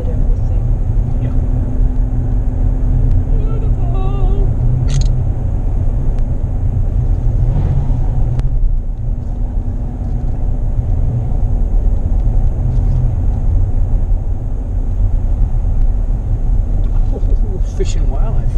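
A car rolls slowly along a back road, W Uncas Rd near Discovery Bay, Washington, in spring, with a loud, steady low engine and road rumble throughout and soft voices murmuring at times.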